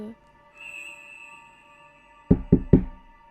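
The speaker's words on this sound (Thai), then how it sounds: "เสียงเคาะประตูดังขึ้น" Three firm knocks on a door land close together near the end, loud and close, after a quiet stretch filled with a faint eerie sustained tone, like a horror-story sound effect.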